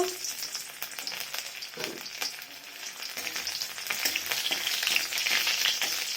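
Cooking in a heated wok for a mustard greens dish, a dense crackling sizzle with fine spattering bursts that grows slightly louder toward the end, close up and uninterrupted by voices.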